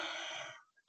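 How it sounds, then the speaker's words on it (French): A single close cough, loud and harsh, followed by a brief pause and a couple of faint small throat sounds. "il faut que je tousse."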